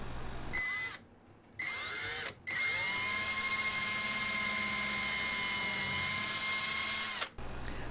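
A power drill bores screw holes into a wooden chest of drawers, with a short burst, a brief pause, then a long steady whine of about five seconds, close and loud.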